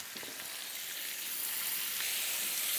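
Meat seared in a hot pan with sizzling noise holding steady and close, slowly building in loudness, with no talking.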